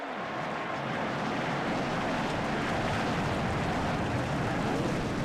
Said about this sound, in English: Drivers, start the engine!